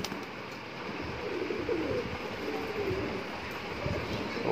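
Shahjahanpuri pigeons, a mixed group of males and females, coo softly in low murmuring phrases against a faint, steady background hum.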